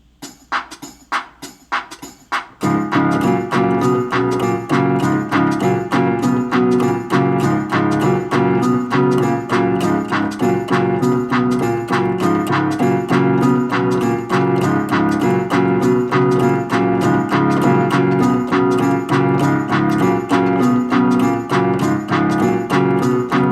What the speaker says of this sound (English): I'm gonna play it with the metronome.